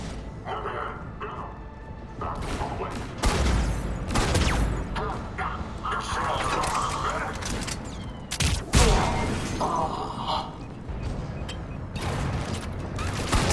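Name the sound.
cannons firing in video game Mass Effect 3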